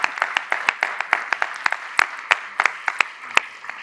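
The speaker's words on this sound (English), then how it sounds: "So let's give Sean a round of applause" An audience at a public health ethics forum applauds a speaker, a loud, dense burst of many overlapping hand claps that keeps going for several seconds with no voices over it.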